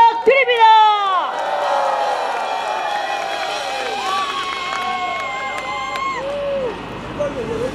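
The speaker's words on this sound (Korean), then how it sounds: "큰 박수 부탁드립니다" At a political rally and national prayer meeting in Sejong, a crowd cheers and whoops over applause, starting loud and settling into a steady roar with scattered shouts and voices throughout.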